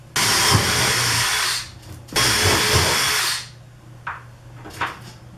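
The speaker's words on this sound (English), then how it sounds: "I'm going to use a 1/4 inch drill bit. I'm going to drill in my template holes" A power drill with a quarter-inch bit whirs loudly in two long bursts, drilling template holes, winding down between them, followed by a few short clicks and taps nearby.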